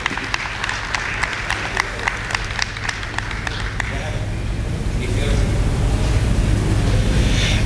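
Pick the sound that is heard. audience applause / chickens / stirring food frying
audience applause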